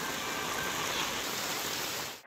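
Heavy rain pounds down on Kalyan's flooded Shivaji Chowk market square, a dense, loud, constant hiss of drops striking surfaces and water that cuts off abruptly at the end.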